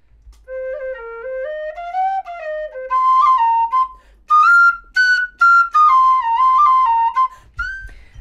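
A silver whistle, before its bore is wrapped, plays a short melody of clear, bright stepping notes, loud and close, with brief pauses between phrases and no talk.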